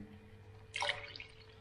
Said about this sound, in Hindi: अब हम मसाले के अंदर 3 कप पानी डालेंगे।